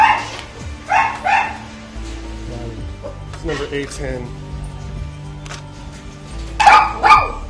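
A caged dog in a puppy mill barks in short bursts, with whimpering yips between them, while a person talks throughout.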